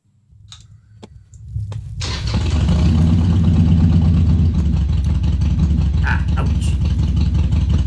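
A motorcycle engine sound cue plays back in Unreal Engine MetaSounds, starting with a few faint sputters before swelling at about two seconds into a loud, steady low idle drone that holds to the end.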